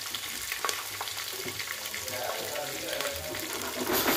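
Peanuts roast in a pan with ginger-garlic paste and chopped chilies, giving a soft, close sizzle and crackle with occasional stirring, under a little talk.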